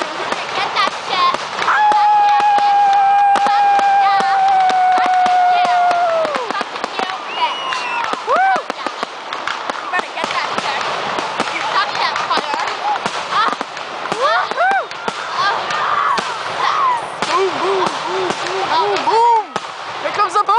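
Carnival fireworks crackle and pop in a dense, continuous barrage, with a rising whistle early on, loud and close, with people talking and shouting over them.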